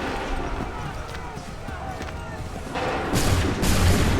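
Musket volley fire in Assassin's Creed 3 as soldiers shoot on command, bursts of broadband blasts landing near the end, with shouted orders and talk over the battle noise.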